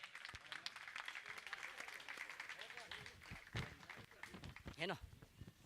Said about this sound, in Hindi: मैं चाहूँगा जोरदार ताली बजा के सम्मान करें।